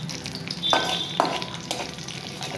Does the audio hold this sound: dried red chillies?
yes